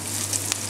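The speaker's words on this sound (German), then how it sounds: "Zwiebeln in die Pfanne geben und dann ein kleines Weilchen," Chopped onions fry in a pan for a goulash, giving a brief, faint, steady sizzle with a light crackle.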